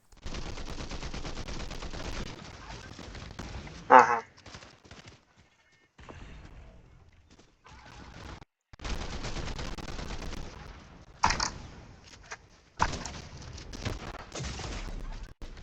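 Gunfire in Fortnite (Chapter 5, Season 3), an enemy shooting from a tree: loud bursts of rapid shots broken by quiet gaps and softer game sounds, with a player's brief voice.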